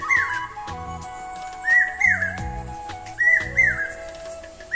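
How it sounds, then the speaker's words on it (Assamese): Repeated whistled calls of an Asian koel in pairs of rising notes, clear and fairly close, over a steady tonal background with low rhythmic thumps and no speech. "আও কুলিৰ মাত"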